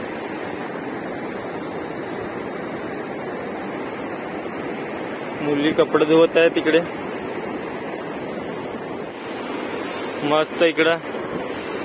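Water at Vadri lake and its small weir makes a steady, moderate rushing wash throughout, with brief bursts of nearby talk layered over it twice.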